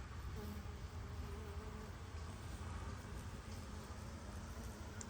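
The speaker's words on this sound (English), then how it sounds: "Wow, lots of honeybees." Honeybees buzz around plants on a farm, making a continuous low droning hum that stays faint and even throughout, with no voices.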